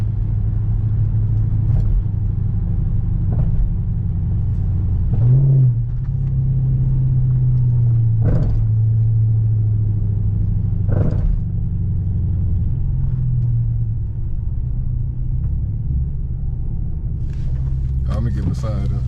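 A Dodge Charger R/T's engine rumbles low and steady while cruising through a city at night, with a brief swell around the middle and occasional thumps, under near-continuous talk from the driver.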